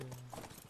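Horse hooves clip-clop in The Last of Us, a few soft hoof knocks under a low tonal game hum, brief and quiet.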